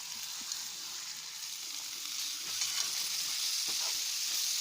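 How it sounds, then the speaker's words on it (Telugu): Small diced potatoes go into a pan of fried onions, a soft, steady sizzle with a few faint stirring taps, heard fairly quietly, without speech. "ఇప్పుడైతే ఆనియన్స్ అయితే ఫ్రై అయినాయి కదా, పొటాటోస్ అయితే వేసుకుంటున్నా"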